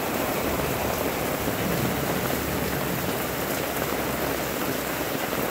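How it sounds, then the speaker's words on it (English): Heavy rain from a sudden July downpour during a storm over Peterborough, a dense, steady roar of drops hitting surfaces, continuous and close, with no voices. "it's easing off now. Wow, that was one hell of a downpour."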